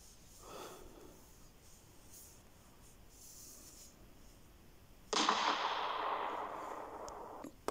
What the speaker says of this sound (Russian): Праздничный салют.